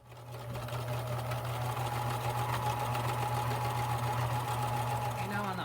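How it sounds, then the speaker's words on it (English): A sewing machine stitches a straight quarter-inch seam on fabric for a gift bag, running in a steady, close, rapid mechanical whir with a low motor hum throughout, while someone talks over it. "I'm going to have a 1/4 inch seam, so right along the edge of my presser foot, and I'm just going to sew straight down."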